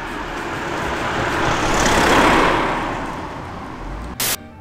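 A single car passes along a rural road where a hornbeam is being dug up, its broad roar swelling to a peak near the middle and fading away, with a brief sharp noise near the end.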